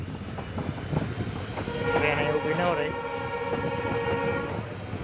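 A train leaving the Songadh station rumbles and clatters nearby, with a sustained horn blast over the rolling noise while a person speaks briefly.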